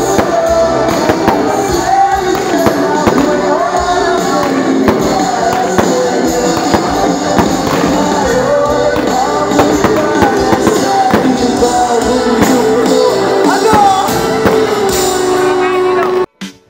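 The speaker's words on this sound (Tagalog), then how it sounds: "habang nagpuputukan mga fireworks" Fireworks crackle and bang continuously at a fiesta, a dense loud barrage of pops and bursts mixed with crowd noise and voices, cutting off abruptly at the end.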